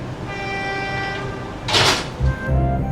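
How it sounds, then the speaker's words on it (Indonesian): The Malioboro Express train idles at Kroya station before departure, a loud steady rumble with tonal hum and squeals, punctuated by a bright hissing burst and a couple of low thumps. "ini kereta api Malioboro Express persiapan berangkat kembali dari stasiun Kroya"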